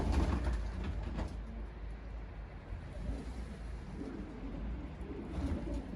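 Soft, low cooing of pigeons close by in snowy weather, repeated murmurs over a faint outdoor background hum.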